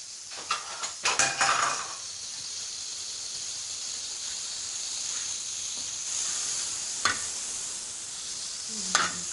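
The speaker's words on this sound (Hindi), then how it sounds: "ये मक्खन का हम इसको तड़का लगाएंगे।" Sizzling hiss of butter heating in a pot for a tempering over creamy boneless chicken, steady throughout, with a few clinks of a utensil near the start and end.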